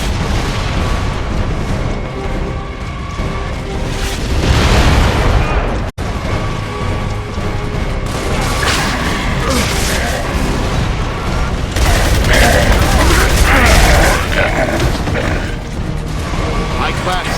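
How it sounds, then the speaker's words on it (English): Mortar fire in Gears of War: Judgment sets off repeated heavy booms and crashing explosions amid a loud, continuous battle din, with voices shouting through the chaos. "The mortars have us pinned down!"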